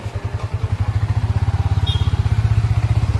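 A Yamaha R15 V4 motorcycle idles just after its second servicing, close by, with a steady, rapid, even thumping engine pulse throughout.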